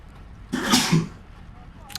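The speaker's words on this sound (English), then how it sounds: "Sorry, I had to sneeze." A single sharp sneeze bursts out near the mic, a quick intake followed by a loud explosive release lasting about half a second, with quiet outdoor background before and after.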